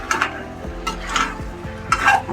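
Spoon stirring sautéed vegetables with butter in a cooking pot for pulao, three scraping sweeps against the metal with a soft sizzle underneath, close and fairly quiet.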